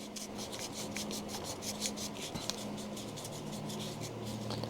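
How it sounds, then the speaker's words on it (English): Engine ignition points are rubbed with 1000 grit sandpaper in quick, steady back-and-forth strokes, a close, soft scratchy rasp repeating evenly throughout with one small tap midway. "I got some sandpaper here, and we're just gonna go to town on them until they're cleaner."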